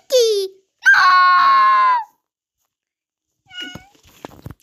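Loud cartoonish meows from a cat character in a video game, one short cry followed by a longer drawn-out one, then quieter squeaky sounds after a pause.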